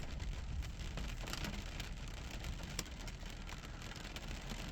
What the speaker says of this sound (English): this beautiful, beautiful rainy day